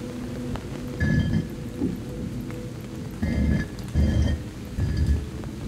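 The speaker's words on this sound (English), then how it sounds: "How come the rain stopped as well?" Rain falls in the horror video game Uninvited Guest, a steady hiss under a few low rumbling swells of thunder, loud and close with no voices.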